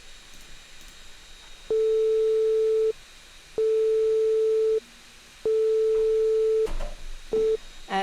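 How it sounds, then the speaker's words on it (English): Pure sine wave tone of y equals sine x, a steady electronic beep played in three sustained blocks of about a second each with a short final blip, clean and loud against faint background hiss. "here we're making just a typical sine wave"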